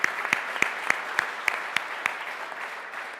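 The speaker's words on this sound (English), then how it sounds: "Let's give a round of applause to Richard." A small audience at a behind-the-scenes talk at Gnomon claps, heard as about ten sharp, evenly spaced claps at a brisk steady rhythm that fade out near the end.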